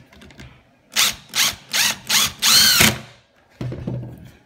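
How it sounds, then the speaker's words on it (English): A power drill drives a set screw into a motorized roller shade motor in four short bursts, then one longer whirring run, close and loud, followed by a brief mechanical clatter. "Put your set screw back."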